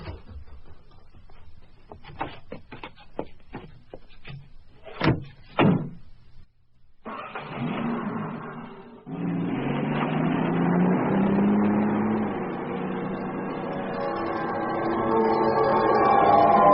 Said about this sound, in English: how fast will one of those trucks move